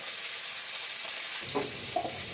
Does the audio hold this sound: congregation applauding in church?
no